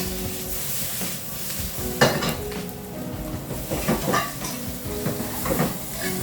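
Chicken sizzling in a covered pan on the stove, a steady close crackle with occasional clinks and stirring sounds of pots and utensils, no talk over it.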